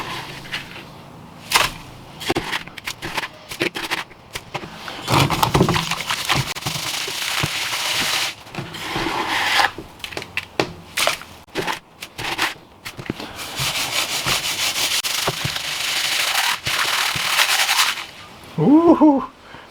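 Gold concentrates are shaken through a coarse classifier screen, producing rattling, gritty crackles and sharp bursts of gravel and metal mesh noise in irregular waves, loud and close, with a brief voice near the end.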